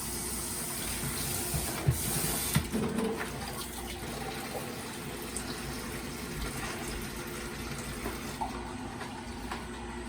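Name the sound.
pouring filtered water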